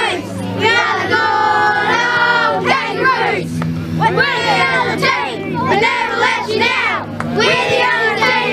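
An under-9 junior football team sings its club song in unison toward the grandstand crowd at an outdoor oval, loud, close and continuous, with short pauses between sung lines.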